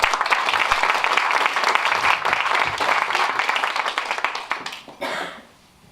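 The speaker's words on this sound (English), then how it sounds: "Good warm applause for Chief Eddie Casper" Warm applause for a police chief at a Bergen County law enforcement gathering in 2017: dense, steady clapping from a large crowd for about five seconds, then thinning quickly and fading out.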